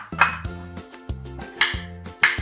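Knife finely chopping about 150 grams of strawberries on a board for homemade ice cream, four sharp, evenly spaced thuds with crisp clicks, close and clear with no talking.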